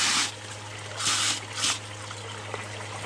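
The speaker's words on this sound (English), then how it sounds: "Got the Gold Hug multi-sluice fired up. And get this stuff wet." A Gold Hog multi-sluice runs during gold prospecting as water is sprayed over gravel, giving a steady rushing trickle broken by a few louder bursts of splashing, with no talk.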